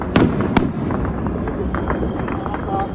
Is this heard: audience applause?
no